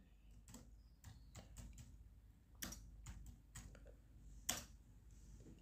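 Code is typed on a computer keyboard in quick irregular bursts of clicky keystrokes, close and faint over a low background hum, with a louder key strike near the end.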